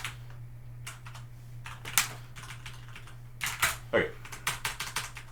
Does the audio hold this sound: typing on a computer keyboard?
yes